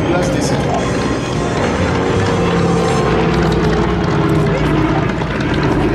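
A Douglas DC-3 propeller airliner at a Biscarrosse seaplane gathering, a loud, continuous droning engine roar filling the whole stretch, close and steady, with a voice talking beneath it.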